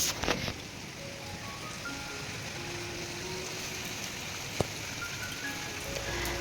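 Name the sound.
rain falling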